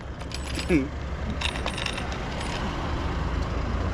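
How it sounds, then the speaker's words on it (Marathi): Small ghungroo bells on a toy bullock cart jingle in a few brief, bright metallic tinkles, heard close over a soft background hum. "आवाज सुद्धा येतो घुंगरूचा"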